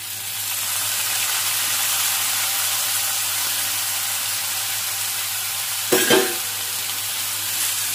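Tomatoes frying in a pan for restaurant-style paneer bhurji make a steady, close sizzle and hiss, broken near the end by a short scrape of stirring.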